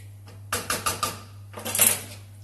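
A spoon scrapes and clinks against a pot while broth is stirred during a cooking class, two short bursts of metallic scraping separated by a pause, close and moderately loud over a steady low hum.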